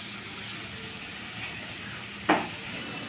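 Goat meat sizzles in a pan with turmeric, salt and chili paste, a steady soft hiss broken by one sharp, brief clatter near the end, with no talking.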